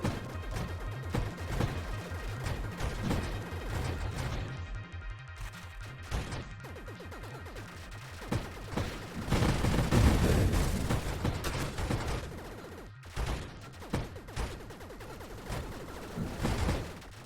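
Rapid weapon fire from a ship in the space shooter Nova Drift, with dense, crackling bursts and explosive impacts piling into a continuous barrage that swells and dips, loud and busy throughout.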